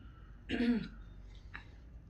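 A single close cough, throaty and short, followed by a faint second catch of breath in a quiet room.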